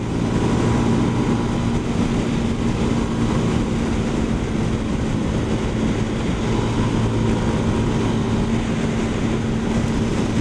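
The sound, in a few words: CF Moto 300 SR motorcycle being ridden in eco mode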